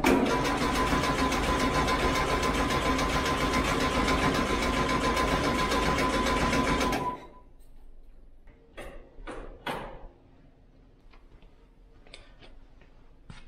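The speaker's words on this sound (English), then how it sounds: "I'm gonna try to fire the little bug up" A Volkswagen Bug's engine runs loud and steady with a rapid ticking chatter for about seven seconds, then cuts out abruptly, leaving scattered faint clicks and knocks in near quiet.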